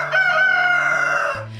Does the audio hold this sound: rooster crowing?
yes